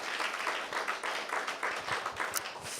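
A congregation at a Sunday church service claps for the Sunday school children, a dense, steady patter of many hands filling a short stretch with no talk.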